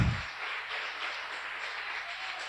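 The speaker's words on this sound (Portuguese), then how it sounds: "Aplauda aí a Jesus" A church congregation applauds for Jesus during a sermon, a steady wash of clapping that stays moderately loud and even throughout, following a brief low thump at the very start.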